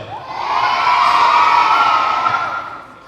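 A crowd of kindergarten children cheers and shouts loudly in one sustained burst that swells and then fades slightly, at an elementary school event.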